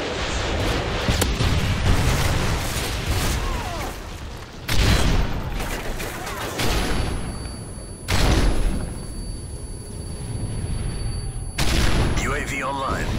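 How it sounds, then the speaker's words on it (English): Repeated booming blasts and gunfire from a Predator missile strike during a team deathmatch on the Dome map in Call of Duty: Modern Warfare 3, loud and close, several heavy impacts spaced apart over dense combat noise. "Friendly Predator missile inbound."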